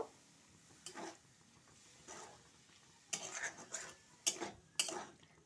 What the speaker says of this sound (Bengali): এবারে আমি ওই মশলাটা শামুক আর আলু ডুবড়ে তুলে দিচ্ছি ভালোভাবে এটা নেড়ে চেড়ে আমি কষে নেব